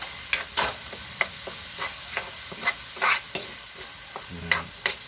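Pork cubes sauté with chopped tomatoes in a pan, giving a steady close sizzle broken by repeated scraping and stirring strokes at an irregular rhythm, with no talking.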